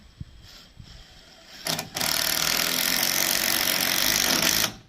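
A power drill drives silver screws at an angle into timber roof beams of a cabin kit, a steady loud whirring grind lasting about three seconds after a brief quieter start.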